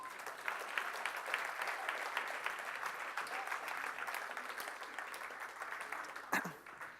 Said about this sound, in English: Guys, give her a round of applause.